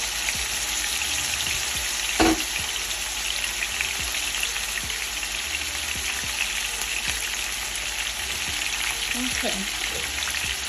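Salmon frying in oil in a skillet, a steady close crackling sizzle that runs continuously, with a sharp knock and a few faint clinks of handling partway through and a brief spoken word near the start.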